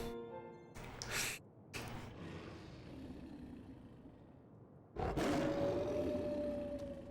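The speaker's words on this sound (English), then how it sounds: "It's an Ice Wolf." Ice Wolf Fenrir roaring in the video game Final Fantasy XIV, a couple of short growling bursts followed by a long, loud, sustained roar close up against faint background.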